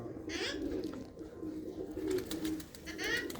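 A female pigeon coos softly in a few low, throaty bursts, close by, with faint rustling and background noise around it.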